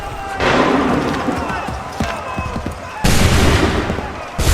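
Musket volleys in the video game Assassin's Creed 3, two loud bursts of massed gunfire, the second starting sharply mid-way, with shouted commands over the battle noise.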